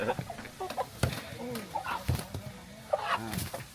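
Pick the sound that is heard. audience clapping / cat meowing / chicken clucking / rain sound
chicken clucking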